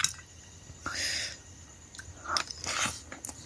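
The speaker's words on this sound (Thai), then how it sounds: "กินอีลึงแบบนี้นะครับ ได้รสชาติดีมากนะครับ" Close, crisp biting and chewing of a rice-and-curry mouthful mixed with ileung herb, in a few separate crunchy bursts with short pauses between them and no talking.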